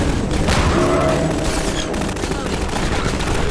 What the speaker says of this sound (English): there's explosions and such out here